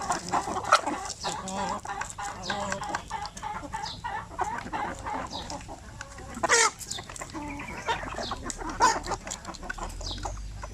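Purebred native chickens cluck and call repeatedly around a breeding yard, several birds overlapping near and far with a louder burst midway.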